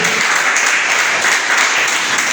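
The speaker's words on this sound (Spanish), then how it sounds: "¿Cuánto le da un aplauso a Jesús?" Church congregation bursts into dense, loud applause for Jesus during a service, a steady wash of clapping heard up close without speech.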